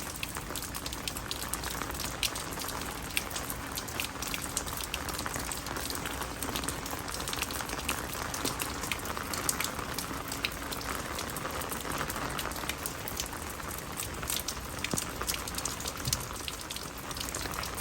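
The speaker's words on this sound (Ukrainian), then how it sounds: "Насправді дощик він такий досить такий потужний." Heavy rain pouring steadily during a typhoon, a dense continuous hiss of drops spattering on surfaces, close and even throughout with no voices.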